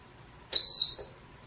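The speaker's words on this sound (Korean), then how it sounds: "최종적인 엔터 버튼과 함께 삐 소리의 부저음이 나면서 입력이 됩니다" A Renfert Magma device gives a single short, steady electronic buzzer beep when the enter button confirms a date and time setting. The beep is clear and close against a quiet background.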